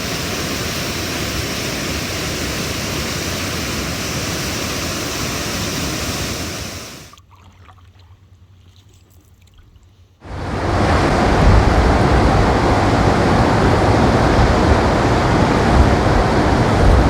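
Chaudière Falls on the Ottawa River between Ottawa and Gatineau, a loud, steady roar of rushing water that cuts out for about three seconds and then returns just as strong.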